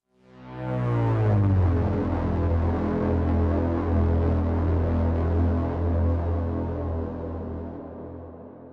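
A deep, sustained MelloSaw synth drone swells in and holds steady, its low throbbing tone washed in long reverb before slowly fading.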